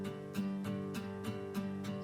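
Acoustic guitar power chords from the Strum Acoustic 2 sample library's power chords preset, strummed in a steady repeating rhythm of about seven evenly spaced strokes, bright and close with sustained ringing between hits.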